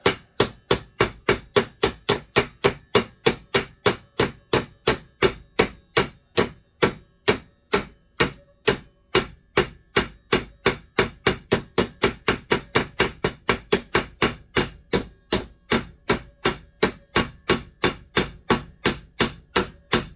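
A hammer peens a chainsaw chain rivet, mushrooming it over, in steady, rapid blows on metal, dozens of sharp evenly spaced taps repeating close-up for the whole stretch with no voices.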